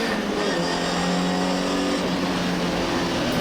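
Historic MGB race car driven around the Snetterton 300 circuit, its engine note droning steadily from onboard as it pulls out of a corner, fairly loud and continuous with no voices.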